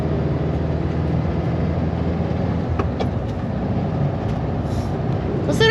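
A 1973 Volkswagen Super Beetle's air-cooled engine runs steadily as the car travels a quiet country road, a continuous loud rumble with road and wind noise and no talking.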